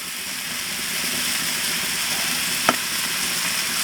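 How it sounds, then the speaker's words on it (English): Bacon strips sizzle on a griddle set to medium high, a steady, dense frying hiss that holds close and even throughout, broken by one brief faint tap. "Go ahead and throw down these strips of bacon."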